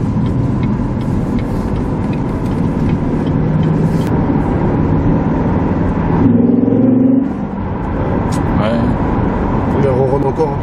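A Corvette C7 Stingray with a 485 hp engine purrs steadily while cruising gently, a continuous low engine drone under the talk of people inside the car.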